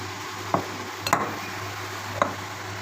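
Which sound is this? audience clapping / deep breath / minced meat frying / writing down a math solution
minced meat frying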